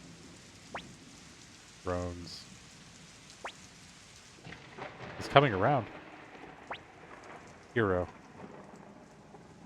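Rain patters steadily in the background of the Suikoden I remaster, a soft constant hiss beneath spoken dialogue that comes in short phrases over it.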